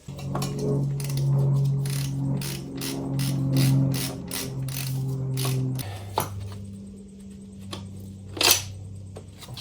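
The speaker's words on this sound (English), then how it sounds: "And I can remove this nut right here." A ratchet wrench clicks rapidly while a nut is being removed from a Honda CBR600RR motorcycle, close and clear rhythmic ratcheting, then a pause and a few metallic clinks as parts are handled.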